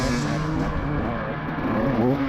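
Cross-country race cars roar loudly off the start line on a dusty sand track, engines revving hard together in a dense, continuous blare.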